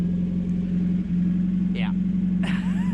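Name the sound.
racecar engine idling at low RPM without a muffler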